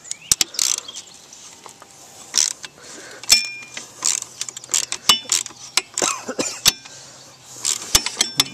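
Wrench working a nut loose on the chain adjuster of a Honda 200X, with a run of sharp metallic ratchet clicks and clanks close by, coming in irregular bursts.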